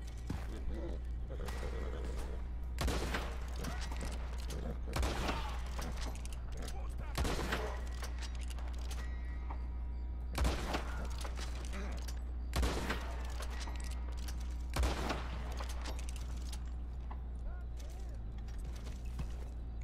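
Gunfire in Red Dead Online, single sharp shots spaced a second or more apart over a constant low hum, with mechanical clicks and a voice talking now and then between shots.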